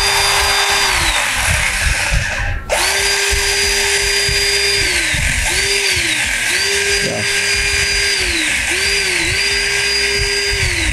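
A XENON CDMCS1846 cordless 18V mini chainsaw with a 4-inch bar runs with a high electric whine that spools up and winds down again in several repeated bursts, close and loud, with a short click between runs.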